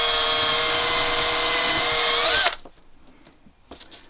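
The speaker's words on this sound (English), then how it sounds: "trying to keep the drill at a similar-ish sort of angle" A power drill bores into a wooden mounting block with a loud, close, high-pitched whine for a couple of seconds, then stops abruptly, followed by faint handling knocks.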